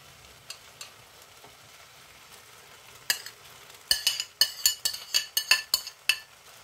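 Chicken toppings for pancit canton hit a hot pan, a steady soft sizzle followed by a series of loud metallic clanks and scrapes as the pieces are stirred.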